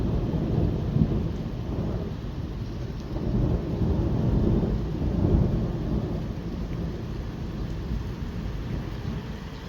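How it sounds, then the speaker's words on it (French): Heavy rain pours steadily with a broad roar, swelling in places, and rumbling thunder underneath during a violent thunderstorm in Bordeaux on 19 May 2025; no one speaks. "il commence à pleuvoir de plus en plus fort là."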